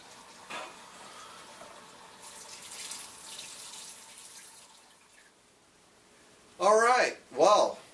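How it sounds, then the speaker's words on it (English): Tap water pours steadily into a home aquarium tank, refilling it after a water change, as a soft continuous hiss through the middle of the clip, followed by two short louder bursts near the end. "Now we're going to start adding it back to the tank to replenish the water that we just siphoned out."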